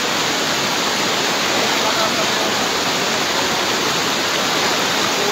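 A fast-flowing river during cast net fishing rushes in a loud, unbroken roar of water that stays even and constant throughout.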